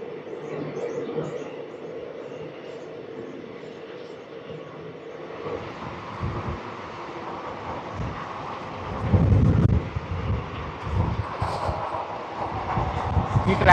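Palnadu SF Express running at about 110 km/h on the Guntur–Vikarabad line: a steady, broadband rumble of wheels on track. Louder surges and thumps come through partway along, and the noise continues throughout without clear speech.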